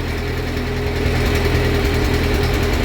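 A tractor engine runs steadily close by, a loud, rough diesel chug with a constant low rumble and no voices.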